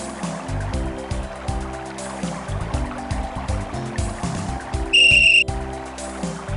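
A short, shrill whistle blast from the Simon the Sorcerer adventure game sounds once, loud and clear, over looping game music with a low bass line.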